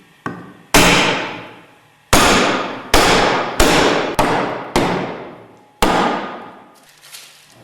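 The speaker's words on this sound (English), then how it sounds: "Drive the closing chamber bottom downwards using light blows with a mallet." A mallet drives the closing chamber bottom of a Westfalia purifier down in seven light, sharp blows at an uneven pace. Each strike rings bright and metallic before fading, close and loud, with nothing else heard.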